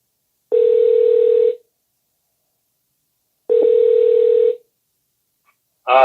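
Two long, steady telephone line tones ring out one after the other, evenly spaced with silence between, as a listener call comes through on a radio call-in show, and a third tone starts at the very end.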